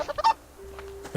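A chicken in the Subsistence video game lets out a quick, loud honking squawk in a short, close burst.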